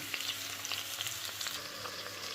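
Quiet sizzling and crackling of wild mushrooms frying with onion in a pan, with small irregular pops scattered over a soft steady hiss.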